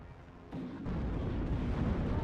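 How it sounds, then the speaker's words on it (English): Distant mortar fire in WARNO, a real-time war strategy game, heard as a low rumbling wash of overlapping explosions that swells and keeps booming in the background. "Lots of mortars coming down"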